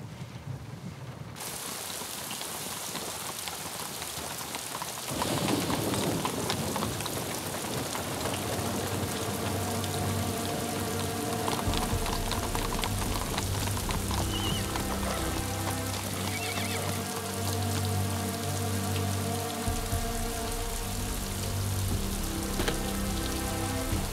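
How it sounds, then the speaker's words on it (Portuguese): Heavy rain pours steadily and loudly throughout, a dense continuous wash of drops on surfaces with no voices. "Quando acha que vai terminar essa chuva?"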